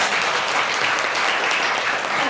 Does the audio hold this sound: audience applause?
yes